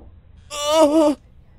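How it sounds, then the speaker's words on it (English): A single drawn-out, voiced breath like a low groan from an animatronic in Five Nights at Freddy's 4, rising out of near silence, lasting under a second, then cutting off. "Breathing."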